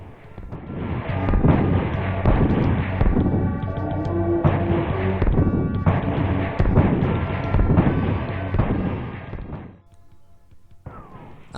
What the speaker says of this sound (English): In Intercept you must destroy all inbound missiles which come from the right side of the screen.